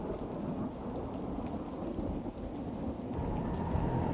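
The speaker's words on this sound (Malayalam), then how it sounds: "എന്നാ ഒരു മഴയാ." Heavy rain falls with rolling thunder in a thunderstorm, a loud, dense, steady roar with low rumbling underneath that swells toward the end, with no voices.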